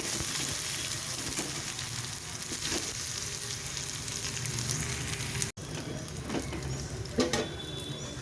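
Garlic, chilies, tomato, turmeric and red chili powder tempering in hot oil, sizzling loudly and steadily up close, with a brief cut partway through and a few stirring clinks near the end, no talking.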